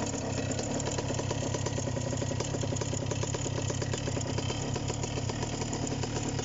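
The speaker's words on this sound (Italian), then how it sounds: "Il motore parte bene con una mano" The MINARI F1 Pro 200 engine of a Delta Piuma ultralight trike starts and idles steadily with a rapid, even putter, running close by and loud with no speech.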